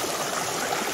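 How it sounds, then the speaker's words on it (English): Steady rushing and gurgling of a stream at a slightly deep water crossing on the Appalachian Trail, where the water runs over submerged rock, a continuous close wash of flowing water with no talking. "Here's a water crossing. A little bit deeper water."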